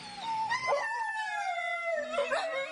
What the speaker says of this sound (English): his pet dogs will jump in with some howling harmonies